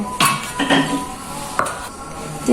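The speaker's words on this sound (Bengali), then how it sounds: "তিরিশ মিনিট পর ফিরে আসলাম এখন ঢাকনাটা তুলে নেব" A lid lifted off a container of rested naan dough: a few close metallic clanks and knocks against the rim, with brief scraping, and no talk.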